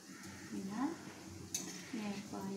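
A spoon stirring sugar syrup in a pan, making soft scraping and clinking against the metal at a moderate distance, with a voice talking throughout.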